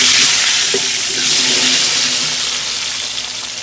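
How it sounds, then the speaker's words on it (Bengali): Small potatoes dropped into hot oil in a kadai, a loud broad hissing sizzle that swells and then slowly settles, with a faint clink early on, close up and free of talk. "এখন যে ছোট ছোট আলু ছিল সেগুলোকে এখন এই কড়াইতে ভেজে নেবে।"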